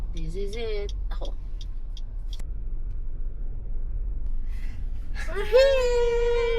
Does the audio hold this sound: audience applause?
no